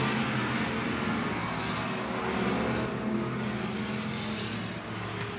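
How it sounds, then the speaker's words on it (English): Hobby stock race cars running laps at I-76 Speedway: a continuous engine roar from cars circling the track, steady and moderately distant with slight swells as they pass. "Carrasco back to the point as they continue to run laps here around I-76 Speedway."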